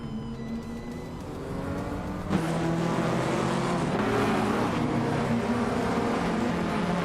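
Racing-game engines roaring as a pack of cars led by a 1987 Ford Sierra RS500 Cosworth speeds along, a dense, loud continuous drone that swells sharply after a couple of seconds and holds steady.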